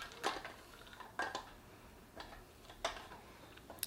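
A utensil stirs chocolate melting in a pan over low heat, making a few soft, sparse scrapes and clinks against the metal in a quiet kitchen.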